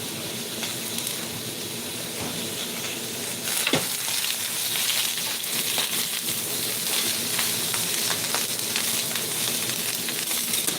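Butter sizzles and fries steadily with potatoes and meat in a hot pan, a loud, continuous crackling hiss with occasional stirring clatter.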